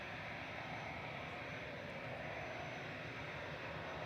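An EasyJet Airbus A320 Classic, registration G-ZWY, takes off from Manchester Airport bound for the Isle of Man, heard as a faint, steady distant engine roar with no talk.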